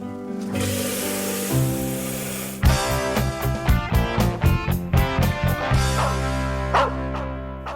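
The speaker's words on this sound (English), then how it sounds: "if the dog next door doesn't stop barking, it can drive you absolutely crazy" A dog next door barks in a rapid run of sharp yips and woofs, fairly loud and close, heard alone with no talking.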